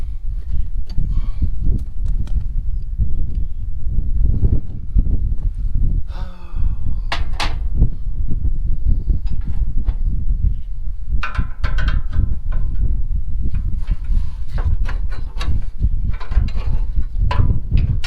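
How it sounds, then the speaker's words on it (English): Strong wind buffets a farm yard outdoors, a loud, continuous low rumble with constant gusting roar and scattered knocks and rustles throughout. "that wind is coming up quick"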